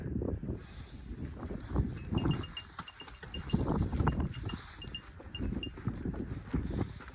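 Goats on a working farm, with soft scuffling, rustling movement and occasional faint bleats or clanks close by, a steady busy bed of animal and handling noise with no talk.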